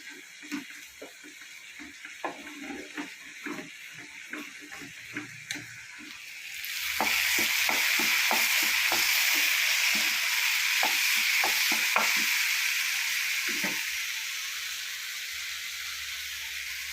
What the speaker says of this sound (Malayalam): മുന്തിരിങ്ങ അണ്ടിപ്പരിപ്പ് തേങ്ങാ കൊത്തി വറുക്കുക